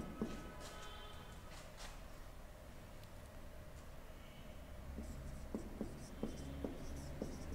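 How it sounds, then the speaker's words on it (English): Handwriting a sentence during an English narration lesson, the scratchy pen or chalk strokes coming in short bursts close by over a steady room background, with no speech. "You can see here, I am writing a sentence."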